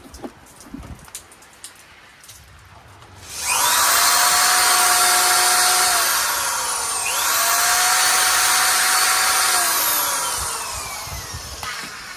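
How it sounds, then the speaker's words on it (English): A power drill, run from a portable power station, spins up loudly and runs steadily for several seconds, its whine dipping briefly as the motor slows before revving again. "Here we have a home drill"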